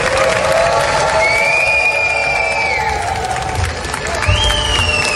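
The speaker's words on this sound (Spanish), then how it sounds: "Los silbidos, abucheos y salida masiva de las delegaciones del recinto de la Asamblea General opacaron a Benjamín Netanyahu." Delegates in the UN General Assembly hall whistle and boo, with several long, shrill whistles rising over a loud, continuous crowd roar of shouting voices.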